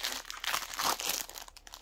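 Small plastic packaging bags crinkle and rustle steadily up close, a dense continuous crackle with brief pauses and no talking.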